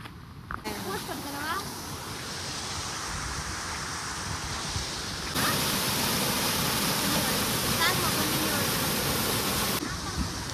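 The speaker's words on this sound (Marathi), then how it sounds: "ही आहे हिरण्यकेशी नदी, जी की त्या देवळाच्या गुफेच्या बाहेरून प्रवाहित होते" The Hiranyakeshi river flows past outside a temple cave at Amboli, making a continuous, loud rushing of water with someone speaking over it.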